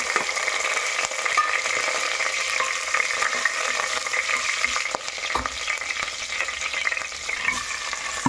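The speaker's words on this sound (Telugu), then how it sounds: "నూనె వేసాక పచ్చిమిరపకాయలు కరివేపాకు వేస్తాను" Green chillies and curry leaves crackle in hot oil inside a pressure cooker, a dense, continuous sizzle with faint stirring, close and fairly loud throughout.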